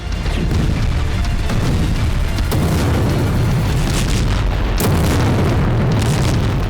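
A massive ammunition depot explosion in Crimea, heard as a loud, sustained rolling roar of blasts and rumbling debris with sharper cracks bursting through, dense and continuous from start to finish.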